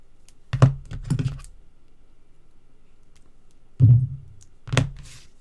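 A handheld adhesive tape runner is pressed along card stock during card making, giving a few short, close clicking thunks in two separated clusters against a quiet room.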